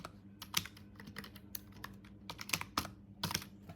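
Rapid keystrokes on a computer keyboard while Bengali text is typed during HTML practice: close, crisp, irregular clicks in short bursts with brief pauses, alone without speech.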